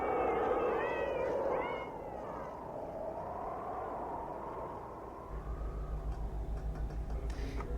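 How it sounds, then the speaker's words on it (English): Meowing and drawn-out caterwauling cat cries from a college radio aircheck cassette, several rising and falling calls over a low hum that thickens into a buzzing drone near the end. "Where did this guy get all these cat noises?"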